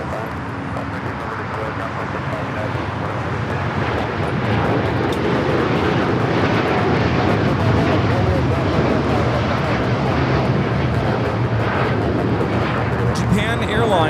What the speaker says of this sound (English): 61 taking off to Tokyo, Narita on the 787-9 Dreamliner